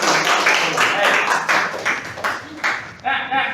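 Classmates in a classroom give applause, a loose run of irregular hand claps, moderately close, thinning out toward the end.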